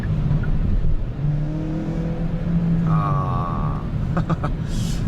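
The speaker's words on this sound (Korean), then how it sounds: "악셀을 강하게 밟아서 엔진이 구동되면서 가속이 될 때는" A Kia K5 hybrid's engine revs under hard acceleration, its drone rising steadily in pitch, heard from inside the car with a faint whine.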